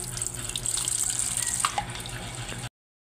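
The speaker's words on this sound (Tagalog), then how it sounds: "pero yung tubig habang nagkarga lumalabas rin dito" Water running steadily from a front-load automatic washing machine that shows an E10 error while filling, a continuous close splashing flow that cuts off abruptly near the end.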